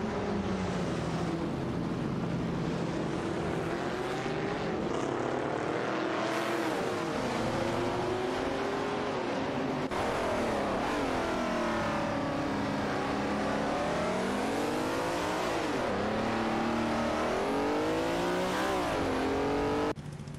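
Race cars in a video game, a Nissan Skyline 2000 GT-R and a BMW CSL 3.5, roar continuously with rising and falling engine pitch as they shift and rev, loud and steady throughout.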